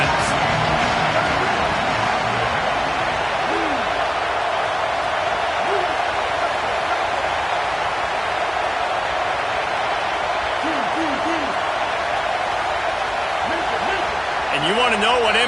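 Steady, loud roar of a stadium crowd cheering for the defense on a big third down in a college football video game, sustained throughout with faint commentary voices drifting over it.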